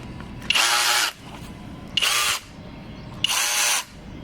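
A Kobalt cordless power ratchet runs in three loud, even bursts of about half a second each, separated by short pauses, with no talk over it.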